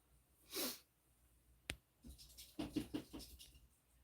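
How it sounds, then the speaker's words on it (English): A single quiet sneeze from a woman, followed by sniffs, breaths and small rustling noises in a quiet room. "Oh, I'm gonna sneeze."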